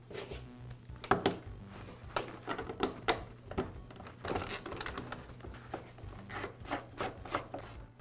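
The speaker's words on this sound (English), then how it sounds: "I'll begin by removing the nut that secures the retainer cushion to the frame." Nut being loosened from the frame of a Shindaiwa backpack blower during a retainer cushion repair: a run of close, scraping rasps and light metallic ticks in uneven bursts over a low steady hum, with no talking.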